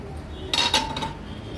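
Metal lid lifted off a steaming pot of wet bombil curry, a brief clatter and ringing clink of metal against the rim, close and clear, followed by a faint hiss with no talking.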